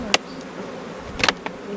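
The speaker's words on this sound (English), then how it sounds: "if any bees in here were field bees, they're going to fly out" Honey bees buzz around an opened beehive during an inspection: a few brief, sharp buzzes dart past close by over a soft, low background hum.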